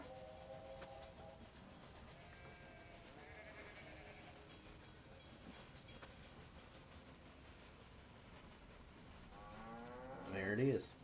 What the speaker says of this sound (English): the train from Los Angeles to Kingman carrying pasture and mail will be rolling in here shortly